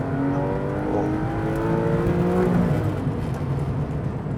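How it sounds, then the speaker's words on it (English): A Porsche 911 flat-six engine rumbles and revs steadily, pitch climbing and settling through manual gear changes with heel-and-toe downshifts, heard from inside the cabin. "I love the sound of the flat six engine."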